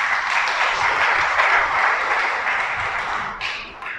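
Sustained applause from a congregation at a church sermon, a dense, steady wash of many hands clapping that holds for several seconds and then thins toward the end.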